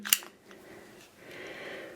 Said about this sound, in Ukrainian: Вставляємо магазин.